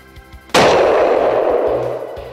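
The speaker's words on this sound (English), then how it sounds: "Our hunter decides to use his rifle." A single hunting rifle shot fired at a bull moose cracks out sharply and loudly, followed by a long rolling echo that slowly fades across open country.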